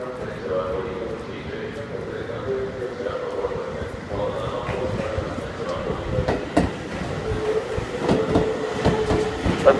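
A Seibu Railway 6000 series train with yellow wrapping, running as a special rapid express to Tokorozawa, rumbles along with a steady low roll and building clatter of wheels on track, moderately near, with station ambience.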